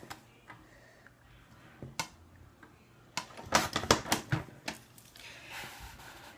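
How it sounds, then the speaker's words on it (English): Small snips as a tiny piece is trimmed off paper for a handmade Christmas card, a few isolated clicks followed by a quick cluster of sharp cuts, close and quiet, no talk. "We can cut a tiny little bit off of this."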